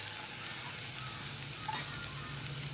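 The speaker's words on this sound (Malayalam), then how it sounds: "നെയ്യ് ചൂടായി വരുമ്പോൾ അതിലൊരു 5-6 അല്ലി വെളുത്തുള്ളി അരിഞ്ഞത് ഇട്ട്" Chopped garlic, five or six cloves, sizzles in hot ghee over low heat, a soft steady crackle and hiss close by with no voices.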